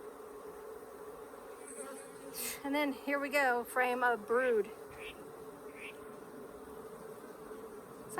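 Africanized hybrid honeybees hum steadily around an opened hive frame of brood in southern Arizona, a close, continuous drone with a rising swell of sharper buzzing passes in the middle, under a man's speech.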